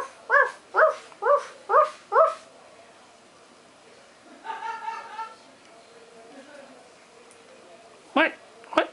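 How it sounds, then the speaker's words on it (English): Dog barking, five sharp barks in a quick regular rhythm, then a softer whining yelp and, after a pause, one more bark near the end, all fairly close. "I summon the dog."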